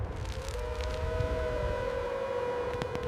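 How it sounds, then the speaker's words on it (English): An air raid warning siren for incoming drones wails in the distance, its steady tone sliding slowly downward over a low rumbling background. "Warning sirens for incoming drones were heard near the northern border areas now."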